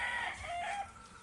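Chickens cluck and a rooster crows faintly in a short burst, the calls rising and falling quickly with no talk over them.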